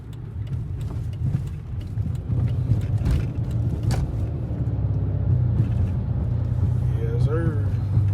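A 2008 Dodge Charger SRT8 cruising on the road, its engine and road noise a steady low drone inside the cabin, with someone talking over it and a navigation voice near the end.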